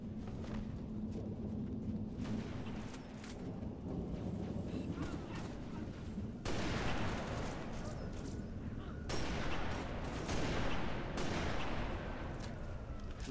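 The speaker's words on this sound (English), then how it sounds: "Gunfire. Magnums." Dense bursts of gunfire from combat in Halo: Reach, continuous and loud, with sharp volleys and a steady rumble of battle noise throughout.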